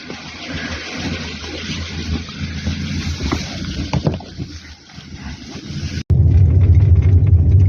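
A car drives along a winter highway broken up by snow damage, giving a steady rumbling road and engine drone that turns into a louder, heavier low roar after a brief cut near the end.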